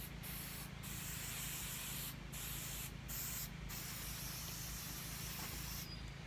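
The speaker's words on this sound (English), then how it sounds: "I'm going to go ahead and spray these things and then let them dry" Permethrin insect repellent sprayed onto clothing, a steady close hiss running continuously with a few brief pauses between bursts, no talking.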